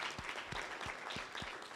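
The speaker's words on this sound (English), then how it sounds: "round of applause again for everybody who spoke this evening" An evening event audience applauds the speakers with dense, steady clapping from many hands, a continuous crackling wash that holds at an even level throughout.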